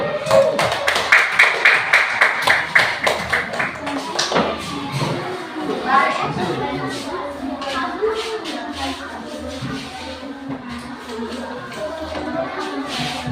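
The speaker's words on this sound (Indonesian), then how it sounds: "Kita tepuk tangan kelompok 1 dulu" A classroom group applauds a presenting student group, with quick uneven hand claps building at the start and then fading into a busy room of overlapping talk and shuffling.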